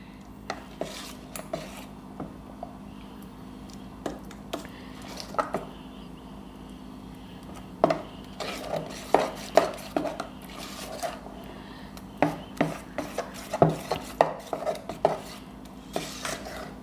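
A spoon stirring cardamom and sugar powder into appam batter in a bowl, giving soft wet squelches and sharp clinks against the vessel that come in irregular bursts, louder toward the end, under a low steady hum.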